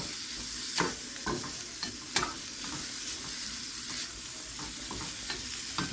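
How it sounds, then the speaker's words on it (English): Bacon pieces sizzle steadily in a pan, stirred with several distinct scraping strokes of a utensil while frying for bacon mac and cheese; close and continuous, no talking. "just stir this around your pan until it starts getting the way that you want it to be"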